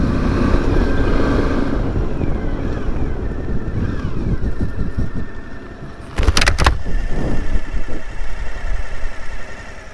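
Motorcycle riding over the Cerreto mountain pass at about 1300 metres, engine droning steadily under heavy wind buffeting on the microphone, with a brief louder gust or rumble near the middle.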